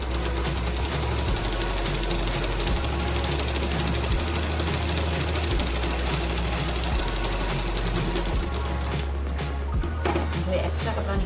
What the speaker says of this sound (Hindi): इस पट्टी को इस तरह से फोल्ड करते हुए एक सिलाई और लगाएंगे उसके ऊपर।